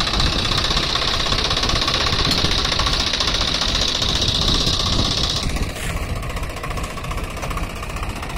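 Swaraj 744 XT tractor engine pulling a fully loaded trolley of wet manure toward a farm field, a loud, steady knocking diesel drone throughout that drops slightly in tone near the end.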